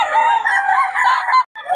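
A Sweater Gilmore bloodline gamecock crowing at a market, one loud, close crow lasting over a second, followed by a short final note after a brief gap.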